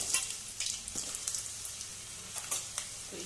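Sliced potatoes go into hot cooking oil on a gas stove and fry with a bright, crackling sizzle, with scattered pops and spatters over a steady hiss.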